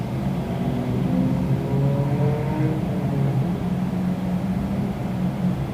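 An American Eagle Embraer 175 regional jet passes at Toronto Pearson airport. It comes through as a continuous, distant low rumble with a faint slowly shifting whine and no clear peak, over steady background noise.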